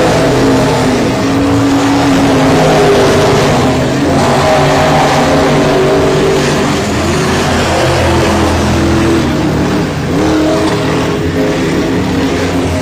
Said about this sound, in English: loose race cars as they make their way around this track